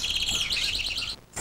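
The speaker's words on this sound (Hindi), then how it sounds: "इतने में चिड़िया की आवाज आई" Small birds chirp and tweet in quick bright bursts throughout, fairly close and alone, with a short pause near the end before another call.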